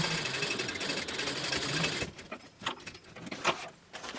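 A sewing machine back stitching a fabric book bag, a fast steady needle whirr that stops midway and gives way to a few short clicks and rustles of handling.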